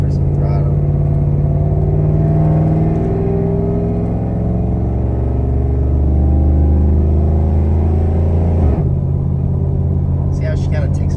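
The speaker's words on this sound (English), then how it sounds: "See how she kind of takes forever to accelerate?" Cammed 5.7 Hemi Ram truck accelerating at partial throttle, a deep, steady rumbling engine drone that slowly climbs in pitch, heard from inside the cab under occasional talk.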